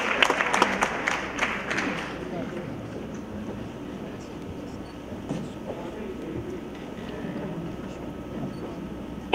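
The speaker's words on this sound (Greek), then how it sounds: "Ένα θερμό χειροκρότημα, παρακαλώ." At a 2019 charity concert against poverty with an award ceremony, a hall audience claps in a loud burst that dies away after a couple of seconds, leaving room murmur and a speaking voice.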